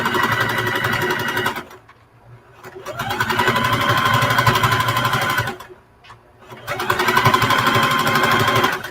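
A sewing machine top stitches around the edge of a fabric burp cloth, loud close whirring in three bursts separated by short pauses.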